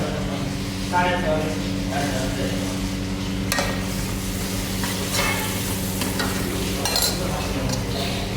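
Chicken frying in a pan, a steady broad sizzle under a voice, broken by several scraping stirs and light metal clinks of a utensil against the pan.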